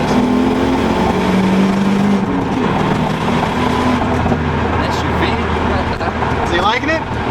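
Twin-turbo Nissan 300ZX fitted with an NA rear subframe, its engine running steadily and loudly throughout on a car test day, with people talking over it.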